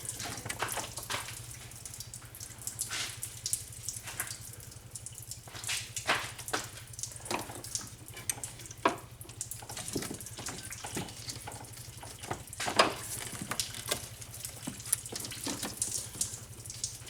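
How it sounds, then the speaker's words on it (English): Coolant drains from a disconnected heater hose on a 1988 Ford Ranger, a steady close splashing trickle that runs without pause, with scattered drips and small clicks on top. "there goes all the coolant"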